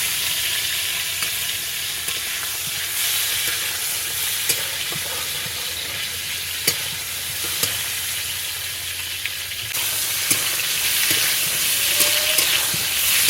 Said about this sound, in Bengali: পটলটাও ভাজা ভাজা হয়ে গেছে প্রায়